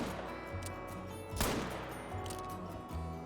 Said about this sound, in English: Let's get a shot into it.